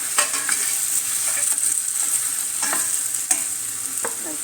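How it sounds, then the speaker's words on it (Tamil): Vegetables sizzling and frying in a pan for a village-style prawn curry, with steady hissing and occasional scraping stir strokes, no talking. "இப்போ காயெல்லாம் போட்டுப்போம்."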